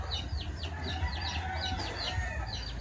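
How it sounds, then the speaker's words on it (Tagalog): Several chickens cluck and squawk steadily nearby while being fed, a busy overlapping chorus of short calls with a low background hum. "So, papakainin natin yung mga manok."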